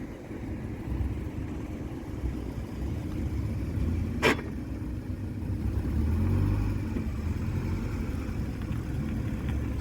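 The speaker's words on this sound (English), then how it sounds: "We've got another Jensen Healey coming in" A classic Jensen Healey sports car approaches at a Goodwood Breakfast Club gathering near the track, with a mid-pitched engine rumble building gradually over steady background noise and one sharp brief click partway through.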